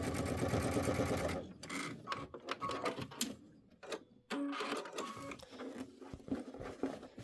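A sewing machine stitches quilt pieces together for a Kimberbell Star Spangled Beauty block. It runs in a steady burst near the mic, then in shorter start-stop runs with pauses between.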